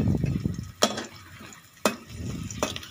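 Finely chopped green chillies frying in ghee in a pan, a soft sizzle with stirring scrapes, and three sharp clinks of a utensil against the pot.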